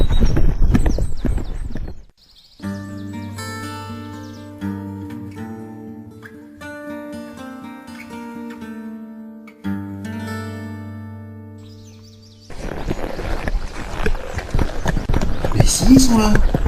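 Galloping horse hooves thud in a video game during a chase after another horse, loud bursts at the start and end with a stretch of sustained melodic music between them.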